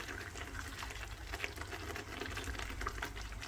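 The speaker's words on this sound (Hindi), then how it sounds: "योगर्ट डाल के हमने फ्लेम लो कर देना है और ऐसा ऐसा से इसकी भुनाई करनी है" A yogurt-based masala sautéing in oil in a pan over a low flame, giving a steady, soft sizzle and bubbling that runs continuously and close, with light stirring scrapes.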